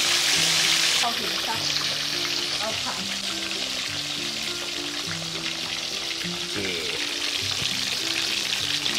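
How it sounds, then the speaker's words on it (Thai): Tilapia fries skin side down in hot oil with a loud, dense, continuous sizzle and crackle, close up, with a person talking over it. "ทอดฝั่งหนังก่อนนะคะ"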